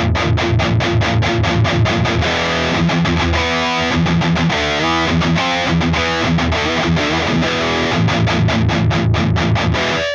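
Jackson KV Pro Dave Mustaine guitar through a Marshall JCM800 2210 with high-gain distortion, loud continuous palm-muted riffing with rapid chugging rhythm and sustained saturated chords, no voices.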